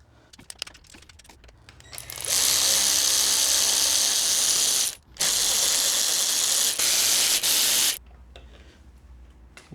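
A ratchet loosens the camshafts on a 1987 Honda GB250 engine, giving off a loud, harsh whirring in two long bursts split by a brief pause. Faint clicks and handling noises come before and after.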